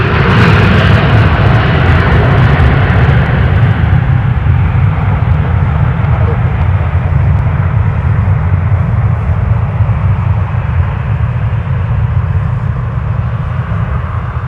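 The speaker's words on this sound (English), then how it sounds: "I don't even have to look and can tell you that's a 737-900" A Boeing 737-900 jet at a snowy airport, a loud steady engine roar with a deep rumble that slowly fades and thins as the aircraft moves away.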